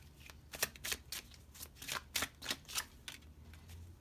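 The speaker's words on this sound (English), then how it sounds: "we'll grab some more cards" Tarot cards are shuffled and drawn for a pick-a-card reading, a close run of quick riffling flutters and soft slaps in irregular bursts across four seconds, with no talk.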